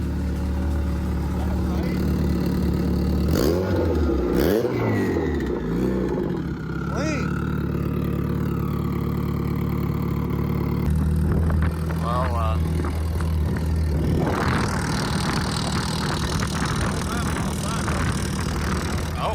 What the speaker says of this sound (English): We're about to do a burnout, maybe a hit.